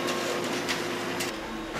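Laser printer running a duplex black-and-white print job, with paper fed through twice; a steady, continuous mechanical whir and hum with faint rattles, close and alone, no talking.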